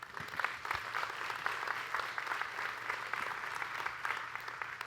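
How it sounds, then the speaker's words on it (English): An audience at an annual community meeting applauds, a dense sustained round of clapping from a crowd, moderately distant and steady for several seconds. "So give yourself a round of applause."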